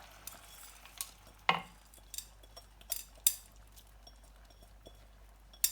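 Rice tips into a pot of chicken akhni with chicken and potatoes: a soft rushing pour, then scattered metallic clinks and scraping stirs against the pot, close and fairly quiet with no voices.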